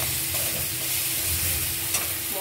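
Spice masala sautés in oil for a homemade chicken curry, giving a dense, steady sizzle with soft stirring scrapes, close up and without any voices.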